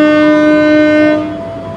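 A loud, sustained, tonal horn or whistle blares from a train departing Jatibarang station, then cuts off abruptly, leaving a lower rumbling tail.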